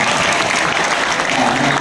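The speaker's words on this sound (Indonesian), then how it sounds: "Oke, tepuk tangan kalau gitu." Jakarta high school students clap together in a hall, a dense, loud burst of applause lasting under two seconds.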